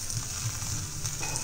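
A half-fried egg sizzles softly in a pan after being flipped, a low, even frying hiss held close and fairly quiet throughout, with no speech.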